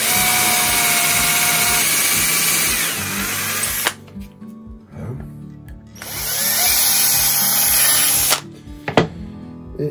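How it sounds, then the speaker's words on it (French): Power drill boring a hole into the underside of a wooden mug, a loud close whir in two long bursts with brief slowdowns and pauses between them, alone without talk. "on va percer un trou par en dessous"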